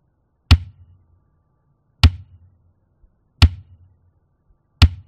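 Kick drum test hits played through a subwoofer, four sharp, punchy thumps spaced about a second and a half apart, each with a short low decay, loud and alone.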